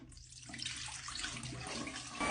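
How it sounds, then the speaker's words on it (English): A vacuum's roller brush is rinsed under a running tap, water splashing steadily and fairly close for the whole stretch, with no talking. "Let's go ahead and give this a wash."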